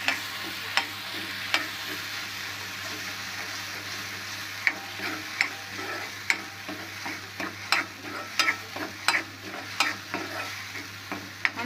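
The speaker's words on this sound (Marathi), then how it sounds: "ढवळून घेऊया." Masala sizzling steadily in a pan while a spoon stirs it, sharp scraping knocks coming in irregular clusters over the constant close frying hiss.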